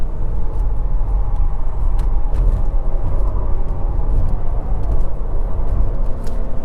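A 2024 Lexus TX500h F Sport Performance AWD SUV accelerating up an interstate on-ramp, heard as a steady, loud low rumble of engine and road noise from inside the cabin, with no talking.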